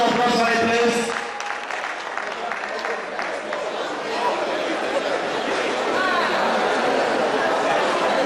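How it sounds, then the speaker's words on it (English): An audience at a 2015 University of Lagos seminar breaks into sustained applause after a voice speaks briefly, the dense clapping filling the hall with some chatter mixed in. "A round of applause for it, please."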